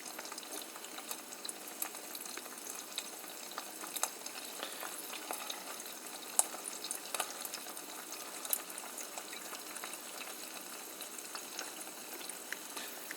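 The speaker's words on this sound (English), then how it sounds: "Okay, now it's sizzling. It's cooking very well." Eggs frying in a pan for egg and mustard pita sandwiches give a steady, soft, even sizzle with faint crackles. It holds at a low level throughout, with no voices.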